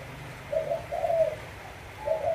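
A turtle dove of the spotted-neck type, a bell-voiced cage bird with a firm coo, gives a few soft rounded coos in close succession with a short pause before the last, set against a low steady background hum.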